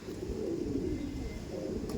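Andhra pigeons cooing close by, a low soft throaty coo rolling continuously through a short stretch with a faint chirp near the end, no talking.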